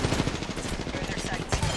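Rapid automatic gunfire in an online shooter game, with a Kraber sniper rifle in play, crackles in dense bursts close up, ending in a sharper heavier shot near the end.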